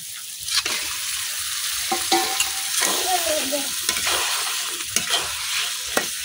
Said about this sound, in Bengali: এখন মশলাটা মাংসের সাথে খুব সুন্দরভাবে মিশাইলাম। এখন ডাইকা মাংসটা কষাই নিলাম।